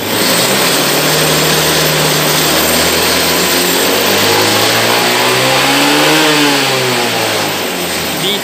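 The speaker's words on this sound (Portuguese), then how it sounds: "Agora eu vou acelerar." A 2014 Honda PCX 150 scooter engine is revved hard and held at high speed, a loud close buzzing drone that climbs and dips in pitch steadily, with no talking.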